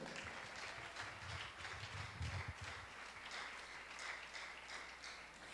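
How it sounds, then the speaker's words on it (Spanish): Church congregation applauding after a call to praise Christ, a steady wash of many hands clapping at moderate distance, with a low rumbling undertone in the first half. "Denle un aplauso a Cristo."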